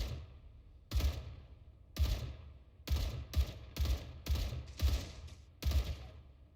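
Heavy artillery in the StarRupture video game fires in a string of about eight booming blasts, spaced roughly half a second to a second apart, each loud and close with a rumbling low tail.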